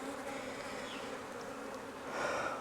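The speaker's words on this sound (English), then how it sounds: "Tons of bees." A steady, dense buzzing of many honey bees close by at an open five-frame nuc hive during an inspection, a continuous droning hum that swells slightly louder near the end.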